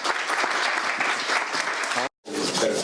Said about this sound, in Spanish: Por favor, denle un fuerte aplauso a Cristian.